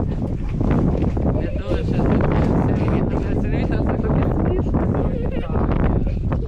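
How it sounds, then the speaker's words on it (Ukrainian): Strong wind roars and buffets the microphone continuously at a flea market in France, with people talking over the blustery noise. "Дуже сильний вітер."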